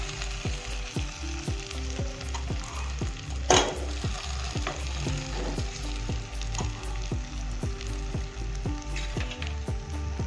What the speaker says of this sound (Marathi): आता हा मसाला टाकून देखील मी पूर्ण परतून घेते